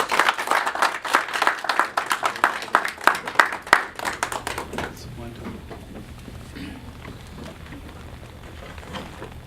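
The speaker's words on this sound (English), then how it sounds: "let's once again give Finance Minister Schleppwein a round of applause." An audience at a leadership event applauds a finance minister with a burst of dense clapping, then fades after about four seconds into a quiet room with faint low murmuring.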